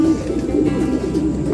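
Pigeons coo softly and steadily in a loft, overlapping low throaty calls repeating in a continuous murmur.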